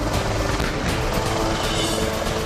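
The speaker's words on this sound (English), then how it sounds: "The 2-ton light helicopter can be modified from a basic cargo utility chopper to being able to deliver small special forces teams to forward locations" A 2-ton Indian light utility military helicopter flies with a steady, continuous rotor and engine roar, dense and unbroken throughout, with no voices present.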